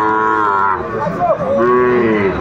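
A Sahiwal cow moos in long, low drawn-out calls at a cattle market, loud and close, with faint voices in the background.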